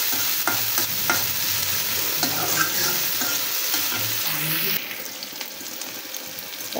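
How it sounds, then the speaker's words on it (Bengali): Chopped onions frying in oil in a wok, close sizzling with brisk, repeated scraping stirs, the sizzle dropping quieter near the end; no voices. "এখন পেঁয়াজগুলো খুব ভালোভাবে নাড়াচাড়া করে একটু ভেজে নিচ্ছি।"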